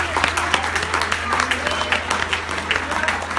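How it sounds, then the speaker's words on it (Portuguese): A church congregation claps loudly and steadily in praise, dense applause with a low hum beneath and voices faintly mixed in. "Aplauda o Senhor."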